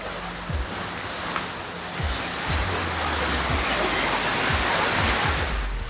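A large waterfall in Mae Taeng, Chiang Mai, roars with a constant, dense rush of water, loud and enveloping, with occasional low thumps underneath.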